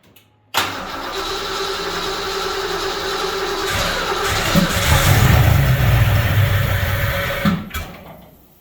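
A Fox Body Ford Mustang engine cranks and starts abruptly, then runs loudly at a rough idle, rumbling deeper midway before cutting off near the end.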